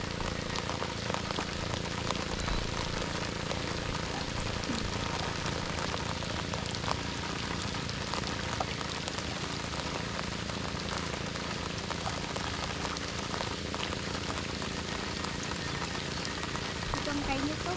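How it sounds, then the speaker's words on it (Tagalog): Rain comes down in a steady, dense patter on surfaces outdoors, continuous and close throughout, with a voice now and then faintly underneath. "Umulan na."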